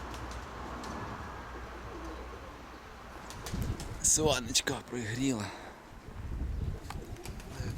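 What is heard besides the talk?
pigeons cooing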